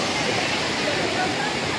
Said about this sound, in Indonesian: itu adalah air terjunnya